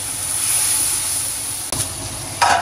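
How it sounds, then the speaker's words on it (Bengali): A spice paste of onion and chili is stirred and fried in a pan, with a continuous sizzling hiss broken by a couple of sharp scraping stirs near the end; no voices are heard. "মশলাটাকে একটু ভালো মতো কষিয়ে নিতে হবে"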